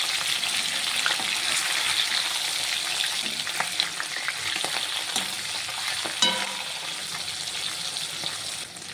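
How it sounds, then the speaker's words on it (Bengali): Hilsa fish sizzling and crackling in hot oil, a steady hiss with scattered pops and a few clinks as it is turned or lifted out. "মাছটি ভাজা হয়ে গেছে, তুলে নেব।"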